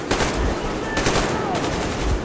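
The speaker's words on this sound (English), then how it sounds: "Thanks for the covering fire." Sustained automatic gunfire laying down covering fire in the video game Metro, a loud, dense, continuous rattle of shots close by with a few heavier bursts standing out.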